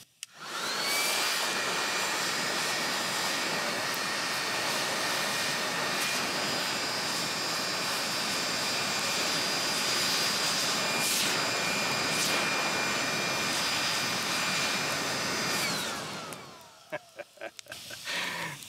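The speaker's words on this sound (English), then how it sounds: "Now, let's try the electric air pump. It's actually a battery-operated air pump." A battery-operated electric air pump blows onto a fire with a loud, steady, close whirring roar for about fifteen seconds before it switches off, leaving faint crackles and clicks.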